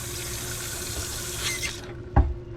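Water gushing from a travel trailer faucet with improved pressure after the pressure reducer is removed, a steady close hiss of running water that cuts off near the end with a short clunk.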